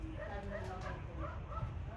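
A dog yips and whimpers near a home in Sitio Pugo, Philippines, in short faint bursts mixed with people talking in the background.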